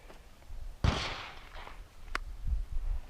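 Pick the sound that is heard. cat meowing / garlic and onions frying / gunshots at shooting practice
gunshots at shooting practice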